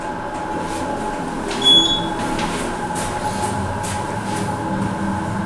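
A steady mechanical hum and rumble of a descending hydraulic scenic elevator in a medical center parking garage, with a brief squeal and faint clicks passing over the continuous drone.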